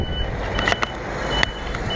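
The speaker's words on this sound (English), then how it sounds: "Just been stopped by this lorry driver here," A lorry turning on a hillside road in Taiwan gives off faint, evenly spaced reversing beeps over loud, steady wind and road rumble, with no voices.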